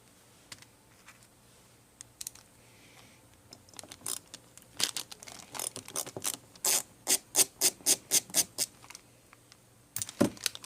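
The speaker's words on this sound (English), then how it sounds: "It's a Phillips head screwdriver." Phillips head screwdriver working a screw loose on a Mikuni carburetor, a series of close, quick scraping clicks and ratcheting scrapes that start sparse and build into a rapid rhythmic run, with no talk.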